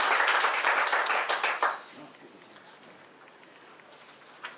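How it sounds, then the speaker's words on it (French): Audience applause for artists at a Beauce Art press conference, a dense burst of clapping that fades out after about two seconds, leaving a quiet room. "on peut applaudir tous les artistes pour 2017"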